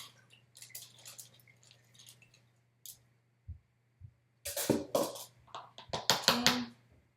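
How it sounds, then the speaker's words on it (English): Rice water is poured through a funnel and strainer, giving short splashing and trickling bursts of liquid close by, quiet at first and then louder in the final seconds. "Then I just pour the water in."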